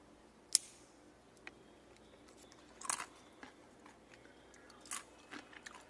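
A few sharp, crisp crunches of dehydrated tomatoes spaced out over several seconds, close to the mic, with quiet background between bites.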